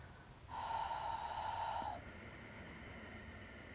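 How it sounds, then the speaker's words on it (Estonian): A single drawn breath through the nose with the mouth shut during a yoga breathing exercise, a close, airy hiss lasting about a second and a half that then fades to quiet background. "Nii et see õhk liigub nina kaudu,"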